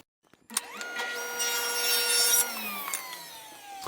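A power saw rips a length of 1 inch thick wooden stock down to 1 inch wide, starting with a sharp bite and then a loud, steady whining cut that rises in tone before winding down.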